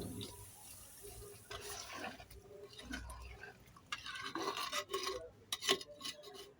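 Water runs and splashes in short, uneven bursts in a home kitchen while food is strained during cooking, with light clinks of utensils, all fairly quiet.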